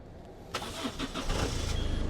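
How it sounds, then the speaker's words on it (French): A used car's engine cranks briefly and catches, settling into a loud, steady, close idle that rumbles on to the end with no one talking. "Vas-y, démarre là, on va la montrer moteur tournant."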